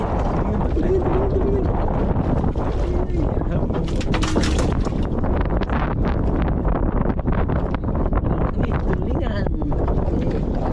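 Strong wind buffets the microphone in constant roaring gusts, with indistinct voices now and then underneath.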